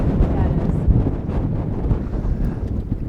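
Strong wind buffets the microphone on a lake during walleye fishing from a boat, a steady broadband rumble and gusting roar lasting throughout with no clear talk.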